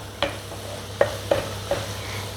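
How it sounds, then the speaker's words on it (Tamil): Shredded cabbage sautéing in a pan as filling for vegetable momos: a faint low sizzle under a few separate light scraping knocks from stirring. "நல்லா வதங்கட்டும். கொஞ்சம் முட்டைக்கோஸ் வதங்கிடுச்சு."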